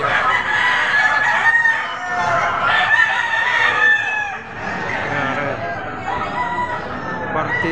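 Chickens and roosters at a busy livestock auction market in Padre Garcia, Batangas, crowing and clucking repeatedly and fairly close over a crowded background murmur.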